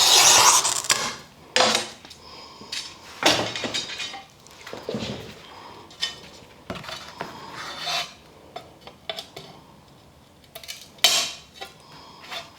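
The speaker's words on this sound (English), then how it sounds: "If your strip is too narrow, so the sides don't touch the glass, then you won't be able to break it with your running pliers. Then you will use your Grozer pliers." Grozer pliers snapping narrow strips of glass, a series of sharp crisp cracks and clinks spaced irregularly, with glass pieces rattling and scraping between breaks.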